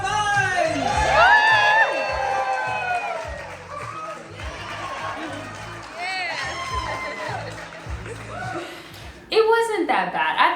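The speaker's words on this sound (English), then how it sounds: "everyone started cheering." Wedding guests cheer, whoop and laugh as the bridal party walks in, a lively crowd roar with shouts rising and falling, then a fresh burst of cheering near the end.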